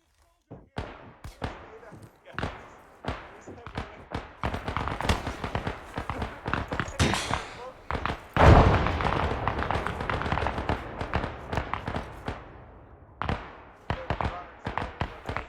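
A heavy weapon fires in a military video game, a long run of sharp, loud cracking shots in irregular bursts with one big boom midway, as voices talk between the shots.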